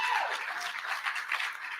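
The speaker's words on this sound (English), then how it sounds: "Give her another round of applause" Applause from a conference audience for a presenter, a steady mid-level patter of many hands clapping through the whole stretch without pause.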